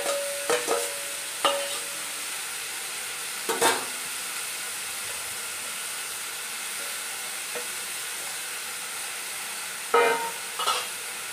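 Soaked moong dal goes into a pan of frying banana stem. A faint, steady sizzle is broken by a few sharp spoon scrapes and clatters, with no talking.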